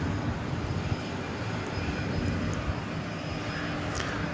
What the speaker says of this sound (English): It's American Flight 1765 going to San Luis Obispo in California. It's an Airbus A319.